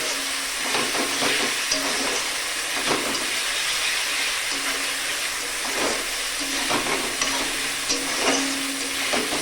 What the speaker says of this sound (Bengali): যতক্ষণ না টমেটোটা গলে যাচ্ছে ততক্ষণ আমি আদা রসুনের পেস্ট আর পেঁয়াজটা নাড়তে থাকবো